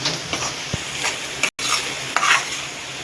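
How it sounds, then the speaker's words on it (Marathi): Spoon stirring spicy egg masala gravy base of onion and tomato in a hot pan, with oil sizzling and frying continuously and a few scraping stirs against the metal. "बघा मी मिक्स करून घेते, मसाला कुठे राहायला नाही देत आहे"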